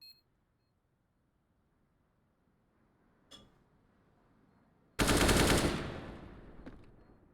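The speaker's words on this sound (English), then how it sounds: "Shots come out, Tomi." Gunfire in a Counter-Strike match: a faint early tick, one distant shot, then a loud, close burst of shots that trails away into softer echoes.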